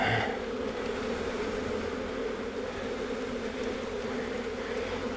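Packaged honey bees are shaken out of their shipping box into an Apimaye hive, giving a dense steady buzzing drone from a large swarm, close and even, with a brief knock at the start.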